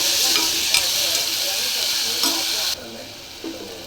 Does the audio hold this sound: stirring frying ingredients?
yes